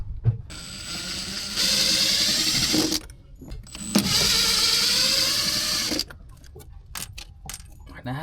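A ratchet cranks at old, corroded screws on a boat, a Police Whaler, in two long bursts of rapid clicking with a quieter pause between and afterward, close by and alone.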